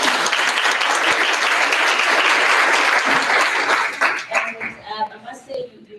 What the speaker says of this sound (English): Just a round of applause for